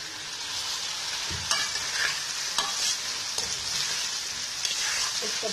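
A spoon stirs soy sauce into a dish in a hot pan. Constant bright sizzling runs throughout, with a few light scrapes and taps of the spoon and no talking.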